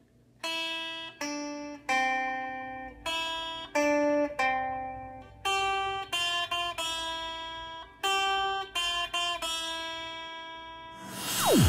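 A single plucked guitar plays the slow, simple melody of Three Blind Mice, one clear note at a time with short gaps, ending on a brighter scrape.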